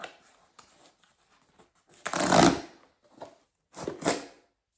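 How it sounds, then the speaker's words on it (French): A cardboard package box opened by its small tab, with scattered light scrapes and then several louder tearing, ripping bursts of cardboard. "il faut que je comprenne déjà comment la boîte s'ouvre. Ah, il y a une petite languette ici"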